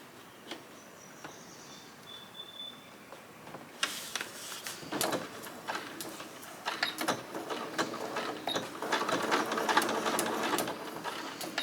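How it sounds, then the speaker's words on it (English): Sewing machine stitching a seam through a paper-pieced quilt block, faint at first and then a soft, steady run of close stitching that grows a little louder, with no talking. "I'm going to sew right there"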